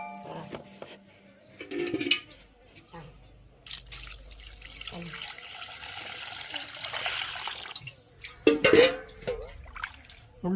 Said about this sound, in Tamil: இப்போ வந்து நல்லபடியாக கழுவுவோம் தண்ணி ஊற்றி